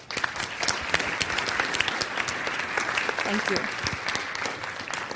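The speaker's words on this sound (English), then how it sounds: "Please join me in giving them a round of applause." Sustained applause from a conference audience after a talk on HCI for development, a dense, loud, even wash of many hands clapping throughout, with a brief spoken thanks near the start.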